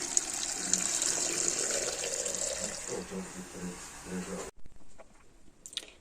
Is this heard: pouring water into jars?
yes